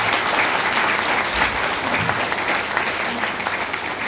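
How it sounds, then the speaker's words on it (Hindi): Loud, dense applause from a crowd at a motivational networking event, steady and sustained throughout with no pauses. "जोर से ताली बजा दीजिए"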